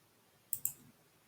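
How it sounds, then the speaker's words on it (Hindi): A computer mouse clicks on a continue button, a crisp double click close to the mic, quick and alone in a quiet room. "let's select this page view goal and click on continue"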